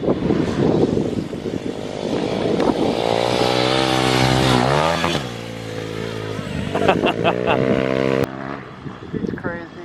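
Stage 3 Kawasaki KLX351 dirt bike ridden hard on off-road OHV trails, engine loud and close with rising, falling revs and shifts, a steady drone then sharp throttle blips near the end, with voices talking over it.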